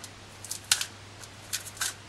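Scissors snipping at thin ribbon on gift box packaging, a handful of short, crisp cuts spaced irregularly, close and fairly quiet against a soft background hum.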